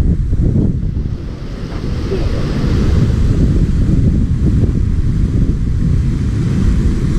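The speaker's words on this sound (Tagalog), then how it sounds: "Lakas na maagos ng tubig" Strong rushing water at San Juan Dam in Calamba makes a loud, continuous roar heavy in low rumble, close to the microphone, with wind buffeting over it and no voices.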